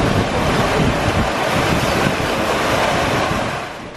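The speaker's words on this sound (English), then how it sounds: "every once in a while, a really big swell comes along." Big ocean swell and breaking waves surge past a sailboat on a transatlantic passage at 17 knots, a loud, continuous wash of water mixed with wind buffeting the microphone, easing slightly near the end.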